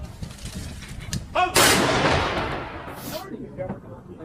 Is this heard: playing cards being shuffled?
no